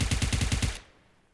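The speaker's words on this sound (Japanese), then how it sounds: "あ、ほんじゃガチで撃たれてるわ" Gunfire in PUBG Mobile rattles out as a quick burst of about seven evenly spaced, loud automatic shots, then stops abruptly into a faint tail.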